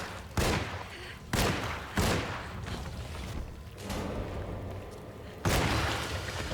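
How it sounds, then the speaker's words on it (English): Pistol shots ring out in the video game Alone in the Dark, a few sharp, loud reports spaced over several seconds against a dim, rumbling background. "we're going to use pistol on this guy"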